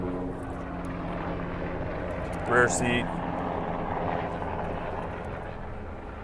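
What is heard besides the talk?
Black Hawk military helicopters flying overhead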